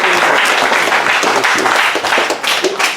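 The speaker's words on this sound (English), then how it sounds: "Can we give him a round of applause" A sustained, dense round of audience applause fills a room at a book reading on Salinas Chinatown local history, loud and continuous with no talking over it.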